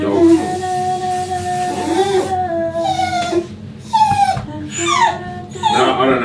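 A dog whimpers and whines in a series of high, wavering cries and short yips at a groomer's, fairly close and loud, with some talk and background noise underneath.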